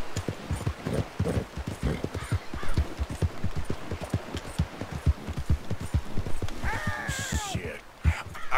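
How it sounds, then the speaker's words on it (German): Rapid, steady hoofbeats of a galloping horse in Red Dead Redemption, fairly loud and close, with a brief whinny-like tonal sweep near the end. "Reite ich jetzt gerade mit seinem Pferd?"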